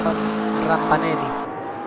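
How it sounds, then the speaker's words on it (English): In the Automobilista 2 racing game at the Nürburgring Nordschleife, a BMW hypercar overtakes with a loud, close engine roar that holds a steady pitch and briefly swells before fading out. "He's being overtaken by a BMW hypercar."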